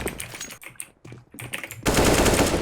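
Automatic rifle fire in Counter-Strike: Global Offensive on the Mirage map, several rapid bursts with short gaps, then a loud dense stretch of sustained fire and noise near the end.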